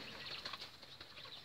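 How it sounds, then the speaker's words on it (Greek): A pigeon flutters and beats its wings in a steady, rapid flapping as it tries to take off, close and continuous. "Το περιστέρι εκεί προσπαθεί να πετάξει δίπλα."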